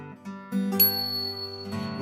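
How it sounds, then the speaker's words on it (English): A bicycle bell gives a bright ring over sustained chords in a live summer song, blending with the music. "hear the tinkle of the bicycle bell"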